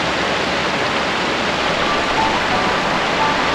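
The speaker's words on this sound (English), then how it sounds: "That little waterfall." A small waterfall pours down moss into a wooded stream, giving a steady, close, broadband rush of falling water that runs unchanged throughout with no voices.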